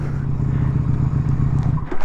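A Yamaha Virago XV125 V-twin chopper motorcycle chugs at a steady low idle, then stalls abruptly near the end, leaving faint clatter.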